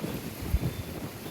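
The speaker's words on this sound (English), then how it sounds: "Ooh, it's windy." Wind gusting across a microphone in a flower garden, a soft, continuous low buffeting rumble over about a second with no voices.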